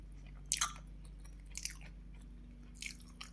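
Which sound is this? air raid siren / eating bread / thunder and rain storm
eating bread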